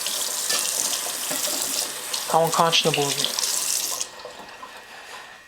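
Kitchen tap runs into a sink as a knife is rinsed, a steady splashing hiss that cuts off near the end, with a brief spoken remark partway through.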